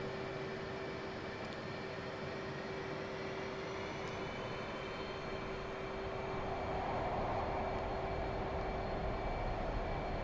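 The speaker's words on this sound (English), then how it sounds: "Keep a small amount of backstick and the Hornet will automatically rotate and fly off the runway." An F/A-18 Hornet jet engine roars steadily as the aircraft rolls down the runway in the DCS flight simulator, a continuous engine drone with a sustained whining tone that swells slightly near the end.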